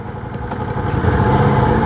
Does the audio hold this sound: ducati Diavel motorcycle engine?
yes